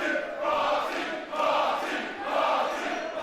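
A wrestling crowd at WCPW Lights Out roars and jeers at Marty Scurll in swelling waves of massed voices, rising and dipping in about three surges.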